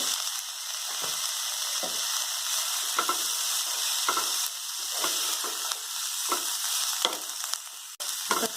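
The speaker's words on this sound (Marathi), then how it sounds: "गवारी छान भाजून घेऊया दोन्ही गवारी भाजून घ्या" Cluster beans (guar) frying with onion in a pan, giving a continuous bright sizzle broken by regular scraping stirs of a spatula against the pan, close and fairly loud.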